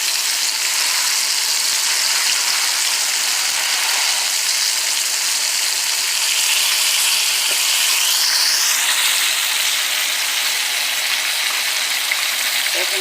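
Ribs frying in a pan in an apartment kitchen, a constant loud hissing sizzle mixed with the roar of a kitchen fan, steady for the whole stretch.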